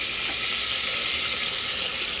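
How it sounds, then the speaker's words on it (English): Butter and flour sizzling together in a pan held over a burner to make a roux for mac and cheese sauce, a close, loud, steady hiss without pause. "let the butter melt. And I am going to add flour"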